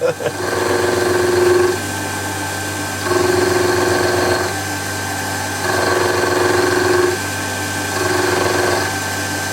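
A milling machine cutting a shop-made knurling tool part on the downstroke, its motor whine swelling in four regular cutting passes with steadier humming between them, close and loud.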